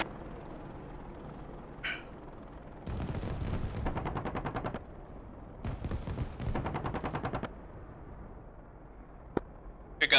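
Bursts from the AH-64D Apache's gun in the DCS World combat flight simulator: two long, rapid rattling volleys of fire stand out against a steady engine drone. A few short isolated pops come before and after them.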